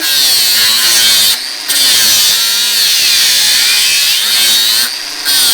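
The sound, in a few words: angle grinder working on a Mustad horseshoe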